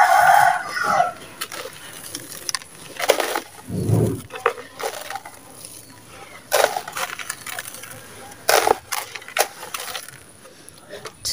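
A rooster crows early in the morning in a domestic setting, the call rising among scattered clucks, crunching and handling noises, with a voice speaking nearby at times.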